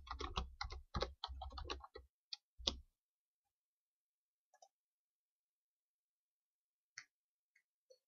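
A search is typed on a computer keyboard in a quick, close burst of key clatter lasting about three seconds, followed by silence broken by a few isolated faint clicks.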